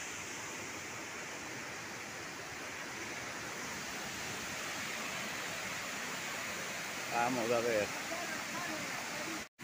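La Poderosa waterfall in Zamora roars as a constant broadband rush throughout, with a voice speaking briefly over the steady noise near the end.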